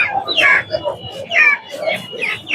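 Native chickens at a village poultry market in Hasnabad cluck and squawk repeatedly up close, in loud irregular bursts.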